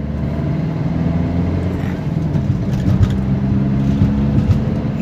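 A Maruti Swift 1.3 DDiS diesel car engine accelerating past 2000 rpm, a steady droning hum that rises gradually in pitch, heard from inside the car at close range, continuous throughout.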